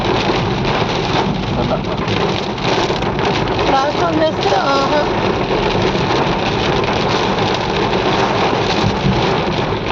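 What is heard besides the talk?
heavy rain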